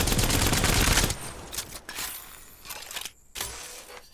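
Dense automatic gunfire in the shooter game Apex Legends, a loud sustained burst of rapid shots followed by a few shorter bursts and single cracks with gaps between them.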